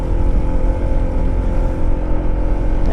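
Motorcycle engines labouring up a steep road in Polangui, Albay, a steady loud droning roar held under load, close and continuous with no voices.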